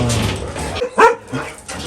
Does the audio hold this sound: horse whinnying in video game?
no